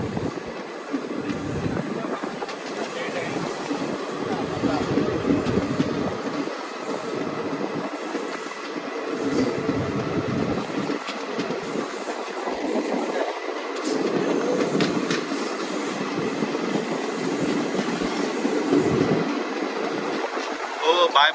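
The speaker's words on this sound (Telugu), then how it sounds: "మన ట్రైన్ మొత్తానికి జడ్చర్ల దాటిపోయిందండి" The Kacheguda-Mysuru Superfast Express runs past Jadcherla, heard from inside the coach as a continuous rumble with rhythmic clickety-clack of wheels over rail joints and occasional brief squeals, steady throughout with faint voices now and then.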